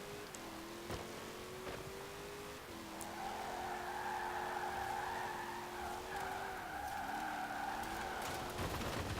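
Long, wavering tire squeal from a Jeep drifting in the Forza Horizon 4 racing game, under a constant engine drone with pitch shifts as the slide changes.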